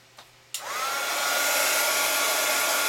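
A hair dryer switches on to dry wet glue on mixed-media mirror embellishments, its steady loud whoosh starting after a couple of soft taps and holding constant to the end.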